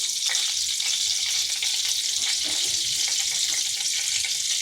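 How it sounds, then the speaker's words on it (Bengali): Black cumin and a dried chili fry in a spoonful of hot oil, a steady close hiss of sizzling with small scattered crackles and spits throughout. "এখানে আবার 1 চামচ তেল দিচ্ছি। দিয়ে দিচ্ছি কালো জিরা,"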